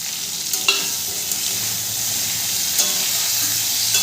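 Drumstick stems, potato and carrot being stir-fried together in a pan, giving a steady close sizzle with a few sharp scraping stirs of the spatula; no voices.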